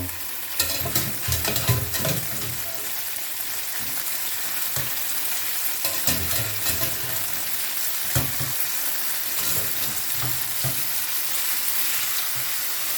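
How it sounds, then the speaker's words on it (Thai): Boiled spaghetti is stir-fried with garlic chili oil in a hot pan, giving a continuous close sizzle broken by repeated scraping and tossing strokes. "ก็เอาลงคลุกกับน้ำกระเทียม อ่า พริกกระเทียมที่เราทำไว้เมื่อกี้"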